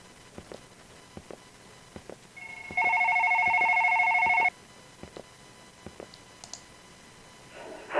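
A phone ringing in the horror game One Late Night: a loud electronic two-tone ring lasting under two seconds, set between sparse quiet clicks, with a faint later chirp.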